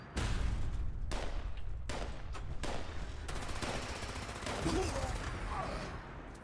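Gunfire in Fallout 76 erupts in dense bursts of automatic and rapid shots during a fight over a workshop, loud and continuous, with explosive booms and a voice talking over the shooting.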